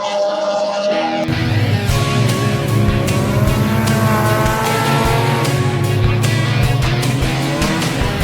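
Race cars heading back out onto the Brands Hatch circuit after a red flag, several loud engines droning and revving together close by in a steady, continuous roar, with occasional higher tire or engine whines over the top.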